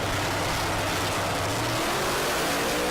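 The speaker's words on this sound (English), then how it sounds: "Side-by-side drag race at the 8th mile." Drag race cars running side by side at SRCA Dragstrip in Great Bend, Kansas, a dense, loud, steady engine roar filling the whole moment with no break or voices.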